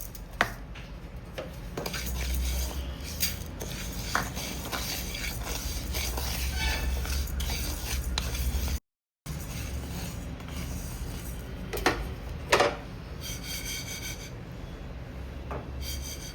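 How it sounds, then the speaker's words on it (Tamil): Moong dal dry-roasting in a pan, a steady dry rasping, scraping rustle of lentils being stirred, fairly close and continuous with a few sharper knocks, no talk over it. "பருப்பை இப்போ வறுத்துக்கிறேன்"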